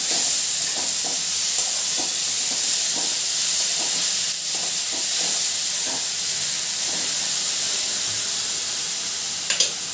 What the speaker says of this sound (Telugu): బాగా కలుపుకోవాలి ఇది.